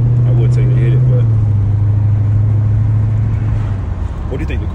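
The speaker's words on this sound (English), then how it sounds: "The car need to be louder or no?" A 500-horsepower Dodge Scat Pack runs under way with a loud, steady low engine drone that holds its pitch and eases slightly toward the end, while voices carry on over it.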